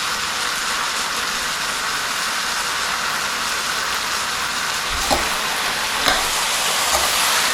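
Mutton sizzling steadily in a hot pan for curry, with a constant broadband frying hiss and a couple of faint scrape-like stirring knocks near the end; no talking.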